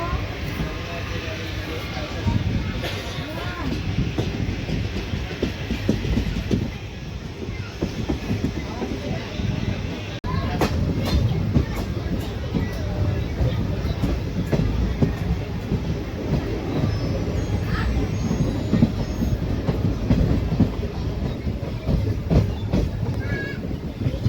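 The 11414 Nizamabad Express passenger train running on the rails after leaving Limgaon: a steady loud rumble with rhythmic clickety-clack of wheels over rail joints, heard from on board throughout.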